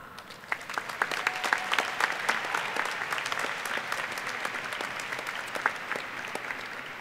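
A room of people claps for graduates at the 2017 Heinz College diploma and awards ceremony, a moderately distant, steady round of applause with crisp individual claps standing out across the whole stretch.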